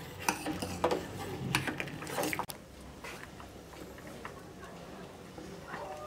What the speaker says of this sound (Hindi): अब हम इसे चलाते हुए जो है पकाएंगे